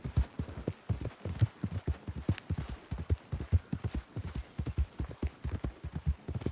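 A horse's hooves clip-clop in Red Dead Redemption 2, a brisk, steady rhythm of close, clear hoof strikes running unbroken throughout.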